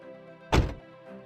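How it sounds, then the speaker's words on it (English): A sturdy MG Hector car door swings shut with a single solid, deep thump, close and loud against a quiet interior hum. "You can almost feel the sturdiness of the door by the sound of that thump"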